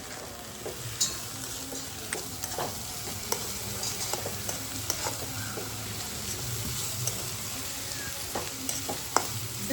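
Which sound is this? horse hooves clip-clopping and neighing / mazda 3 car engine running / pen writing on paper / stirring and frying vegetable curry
stirring and frying vegetable curry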